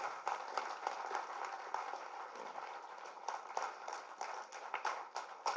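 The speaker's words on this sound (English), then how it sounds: "shall we give a big round of applause for welcoming him?" Audience at an insurance agents federation general body meeting in Hyderabad applauds steadily to welcome a speaker, a dense, even patter of many hands clapping at moderate distance, with no voices over it.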